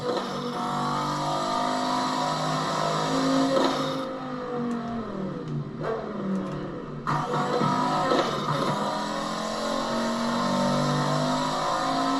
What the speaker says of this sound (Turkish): bu arabalar ne kadar hızlı gidiyor lan böyle.